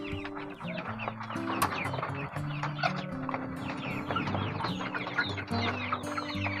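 Healthy, unvaccinated backyard chickens cluck and squawk in overlapping bursts close by, over a steady low droning hum in the background.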